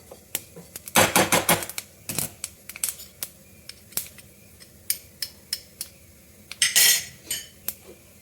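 A spoon scrapes and clinks against a wok while fried ridge gourd peels with sesame are stirred, giving a busy burst of metallic scraping followed by scattered sharp taps, close and alone without talk.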